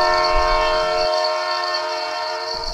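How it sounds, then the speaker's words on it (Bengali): A train rolls past a bungalow, its horn holding a loud, steady tone for about three seconds over a low rumble of wagons, with no voices. "ট্রেন যায় একেবারে ওদের বাংলোর সামনে দিয়ে।"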